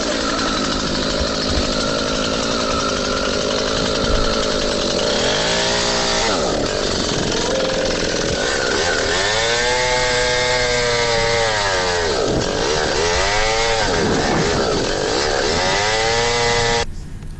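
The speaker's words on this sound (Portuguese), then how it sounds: "Motosserra? Motosserra, né?" Chainsaw running continuously, engine droning loudly and close, rising and falling in pitch as it revs and bogs down through repeated cuts.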